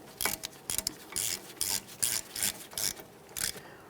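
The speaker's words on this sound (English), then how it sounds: "Let's tighten up that banjo bolt." Ratcheting clicks and rasping turns as a banjo bolt on a 2013–2015 Chevrolet Malibu front brake caliper is tightened, a run of about eight short bursts close by with no talk.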